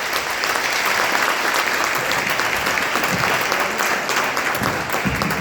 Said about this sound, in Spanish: un fuerte aplauso para Luis Anino